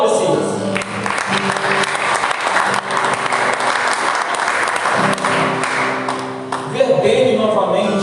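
Steady applause from a church congregation during a ministry service, loud and continuous, with a sustained keyboard-like tone beneath and a voice speaking near the end.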